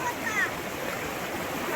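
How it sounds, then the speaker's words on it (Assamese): Floodwater surges in a strong current through a village in Assam, making a steady, dense, close rushing roar that stays even and continuous throughout. "কিমান সোঁতত আহি আছে পানী।"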